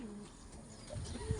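Soft, low cooing from a pigeon, faint against a steady background hiss, with no voices.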